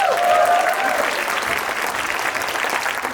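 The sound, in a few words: audience round of applause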